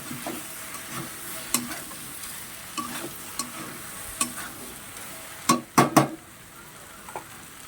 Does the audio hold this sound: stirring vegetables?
yes